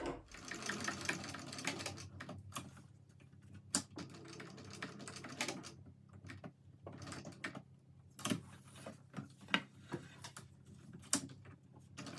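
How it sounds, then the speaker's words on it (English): A sewing machine runs in quiet bursts of rapid mechanical ticking as it stitches through a backpack strap, with short pauses between runs and soft clicks in the gaps. "sewing through the strap"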